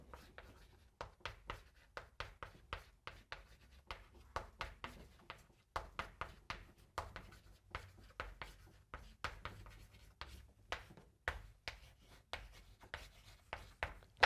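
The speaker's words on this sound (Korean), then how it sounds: "제가 일단 써볼게요." Marker or chalk strokes of an equation being written on a classroom board during a polynomial math lesson, a steady series of short scratchy taps and rubs, close and clear with no talking.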